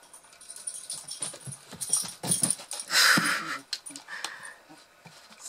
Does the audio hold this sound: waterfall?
no